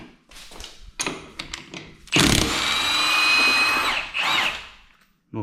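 A Milwaukee M18 half-inch impact wrench rated at 1400 foot-pounds, running on a 1.5 battery, removes lug nuts. A few short taps come first, then one loud, close, sustained hammering burst of about two seconds, and a brief final burst.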